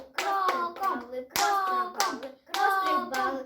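A child claps hands in a steady rhythm during a beginner piano ensemble lesson, with sharp repeated claps in small bursts and children's voices mixed in between.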